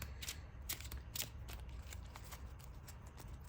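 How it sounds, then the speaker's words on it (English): A deck of trading cards is riffled and shuffled up close, crisp rapid bursts of card flutter repeating in quick rhythm over quiet background noise. "this is a good shuffle. This is a very good shuffle."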